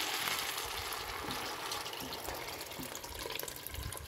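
Water pours steadily as it is added to dough for Moroccan rafisa. A continuous, gushing splash runs through the whole stretch with no pause.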